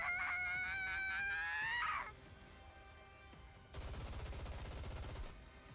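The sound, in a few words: barrage of bullets fired by Snow White in video game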